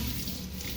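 Tap water running steadily into a sink or basin as feet are washed, a close, continuous splashing flow that fills the short moment without any speech.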